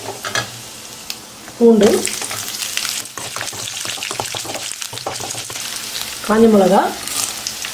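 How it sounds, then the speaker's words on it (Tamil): Chana dal and urad dal fried in oil in a South Indian kitchen, with a steady sizzle and repeated stirring scrapes and clinks, close and fairly loud, and someone speaking briefly twice over it. "கடலைப்பருப்பு, பருப்பு நல்லா பொன்னிறமாக வறுத்துக்கலாம்."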